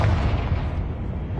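Confringo blasting spell explosion in Hogwarts Legacy, a loud booming burst that decays into a rumbling roar over about a second and a half.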